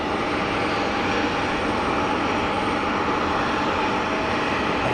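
Aerospool WT9 Dynamic light aircraft at Geneva Airport, heard as a steady, broad engine drone with airport rumble. The sound stays constant and fairly loud for the whole stretch, with no talking.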